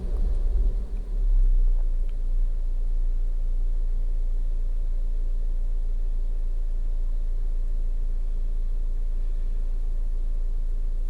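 A 2013 VW Tiguan with a low-power fault idles with a steady, low engine rumble and drone, a slight swell near the start settling into an even hum.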